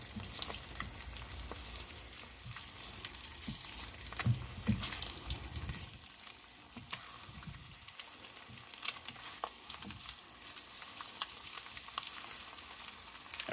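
Eggs frying in a pan for a furikake fried egg sandwich, with a continuous soft sizzle and bubbling plus occasional crackles and scraping stirs, fairly quiet and steady throughout.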